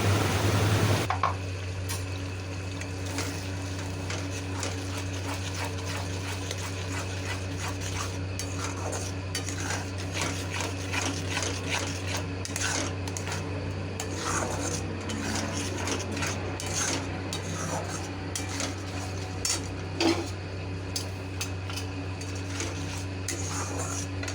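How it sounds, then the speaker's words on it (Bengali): Cashew, raisin and melon-seed paste stirred and fried in a pan, a metal spoon scraping and clinking steadily against the pan over a low sizzle and a constant hum, no talking. "কাজু কিশমিশ চালমগজের পেস্টটাকে এখন একটু ভালো করে আমি এটাকে কষিয়ে নেবো"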